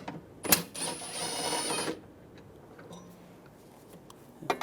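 A ratchet with a 13mm socket loosens a bolt near the battery of a 2006-2010 BMW 550i, giving one brisk, close burst of rapid clicking that lasts about a second and a half before falling to quiet.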